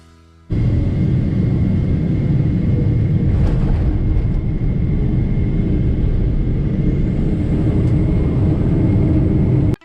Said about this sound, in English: we're soon landing at Heathrow in some slightly turbulent conditions